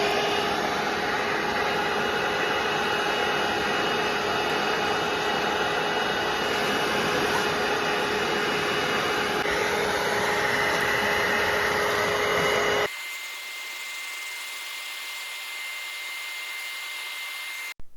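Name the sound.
Bissell Little Green Machine carpet cleaner running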